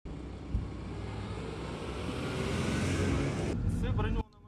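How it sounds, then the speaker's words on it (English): Kuga armored car made in Ukraine driving along the front line, a steady engine drone and road rumble heard from inside, rising slightly before cutting off near the end. "we are driving along the front line in a Kuga, an armored car made in Ukraine"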